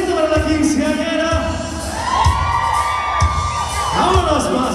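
Crowd at a rodeo clown show for a quinceañera celebration, shouting and cheering together in a loud sustained roar with children's voices rising through it.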